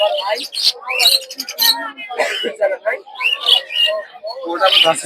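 Budgerigars and other cage birds at a bustling Bangladeshi bird market chirp and twitter in dense overlapping calls, close and fairly loud, with people talking throughout.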